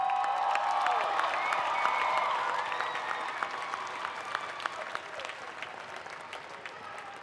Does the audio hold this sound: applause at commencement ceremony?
yes